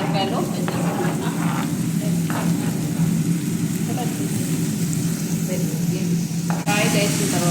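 Chopped ridge gourd frying in hot oil gives a steady, close sizzle under a low hum, with light clinks and scrapes from the pan and someone talking over it.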